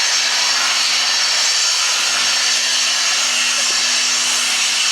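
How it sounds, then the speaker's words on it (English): An angle grinder runs at a construction site beside an ancient temple, with a loud, steady, continuous whine and hiss that holds unbroken throughout. "Angle Grinder, man."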